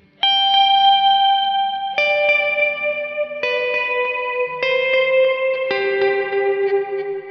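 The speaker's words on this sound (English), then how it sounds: "I'm using a quarter note delay with modulation on it, and then the Granny Made reverb" Ambient electric guitar plays five slow, sustained notes in turn, each washed in shimmering modulated quarter-note delay and lush reverb that blur them together.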